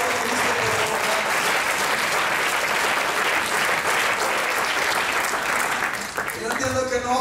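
Sustained congregational applause from a church crowd honoring Christ, loud and dense across the whole stretch, easing slightly near the end.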